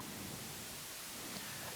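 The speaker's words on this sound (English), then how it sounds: "test tone has white noise" Steady white noise test tone from an audio effect plugin, a flat continuous hiss that stays quiet and even throughout with no other sounds.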